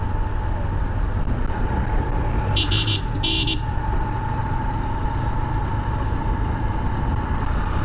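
A Hero motorcycle, bought new about a year and a half earlier, rides slowly along a rough road with a steady engine drone and wind rumble. A horn toots twice midway, and a voice is faintly heard under the noise.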